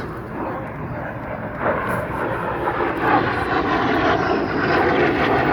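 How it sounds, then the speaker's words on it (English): An L-39 Albatros jet flying an inverted pass at an air show gives a loud, steady engine roar that swells slightly as it passes, with no clear talk over it. "From show right, Brian Reynolds in the Albatross, gaining a little altitude, and we'll do a nice little inverted pass"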